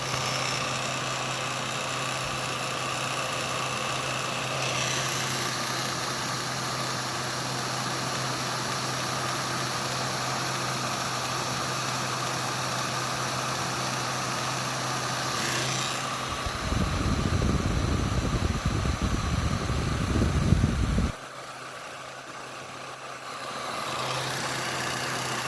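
A Pulsar 4500 watt generator engine runs steadily with a constant hum, then a louder, rougher burst of motor noise for a few seconds before it drops to a quieter tone.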